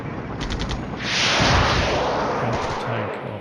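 Anti-tank rockets explode in the Cold War wargame Flashpoint Campaigns, heard as a loud, dense burst of booming blasts and crackling fire that swells, holds, and then fades.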